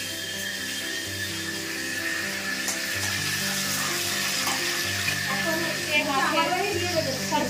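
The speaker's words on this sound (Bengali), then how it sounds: "এখন আমি রান্না করছি এই যে সর্ষে ইলিশ" Mustard hilsa fish cooking in a pan gives a continuous close sizzle with a watery, bubbling edge, heard beneath steady background music and some household talk.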